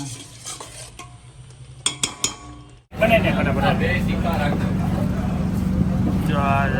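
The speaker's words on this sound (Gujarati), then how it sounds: "ગ્રેવી ઉકળે છે પછી શાક નાખી દઉં" Pav bhaji gravy bubbles and sizzles loudly in a pan after a few clinks of utensils, a close, steady frying texture with a voice talking over it.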